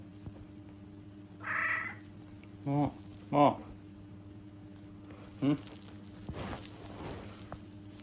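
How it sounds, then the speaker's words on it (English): A cat meows several times, short soft calls spaced a second or more apart, faint and close against a steady low hum. "Here's a very polite cat."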